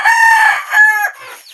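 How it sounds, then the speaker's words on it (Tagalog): Rooster crowing close by with clucking chickens around it, a loud harmonic crow rising and falling over about a second, then softer fowl calls trailing off. "magpakaon ka sa mga manok"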